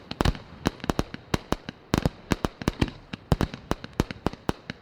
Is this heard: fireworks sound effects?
yes